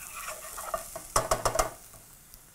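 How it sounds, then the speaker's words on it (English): Onions sweat briefly in a pan, giving a soft sizzle with a quick cluster of light scraping and clinking from stirring in the middle, close and fairly quiet. "So we're going to begin by sweating those very quickly in our pan."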